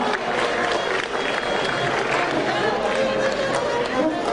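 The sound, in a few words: audience applause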